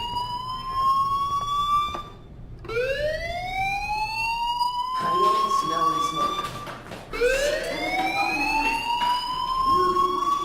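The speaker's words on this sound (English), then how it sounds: "Hey, do you hear that fire alarm?" School fire alarm in the video game Life Is Strange, a loud rising electronic siren sweeping upward again and again in steady cycles, continuous and close throughout.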